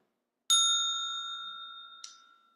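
A small Tibetan singing bowl is struck once, giving a bright, sustained ring that slowly fades, followed by a second lighter tap near the end while the first tone still lingers. Close and clear, with no talking.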